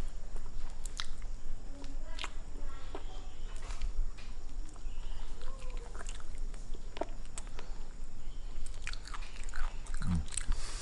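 Crispy Matahari durian is bitten and chewed close to the mic, giving repeated crunchy bites and wet mastication in an irregular rhythm, with no talking.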